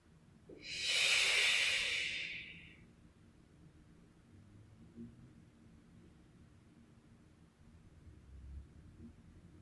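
One slow, breathy exhale during a hatha yoga stretch rises and fades over about two seconds, close and soft, and is followed by quiet room tone.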